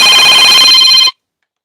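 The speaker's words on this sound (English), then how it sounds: "And then I got a phone call." A telephone rings loudly with an incoming call during a live chat stream, one steady bright electronic ringtone burst lasting about a second before cutting off abruptly into silence.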